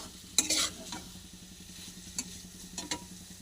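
An egg frying in a little ghee with turmeric, chilli powder and bay leaf gives a soft steady sizzle, with a few sharper crackling bursts and scrapes of stirring near the start and later on.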